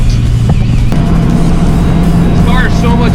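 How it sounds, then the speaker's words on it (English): A 1986 Ford Mustang GT Fox body cruises with a loud, continuous engine rumble, with a brief tonal note early on and a voice talking over the motor. "This car is so much fun to drive."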